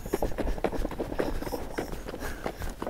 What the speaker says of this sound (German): ist ein tolles Pferd